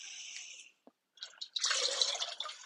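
Pottery glaze is poured over a pot and drips, with a spattering liquid trickle, a brief pause and a single drip, then a steadier, louder pouring splash up close.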